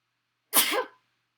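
A single sharp sneeze bursts out close up, brief and loud, surrounded by silence.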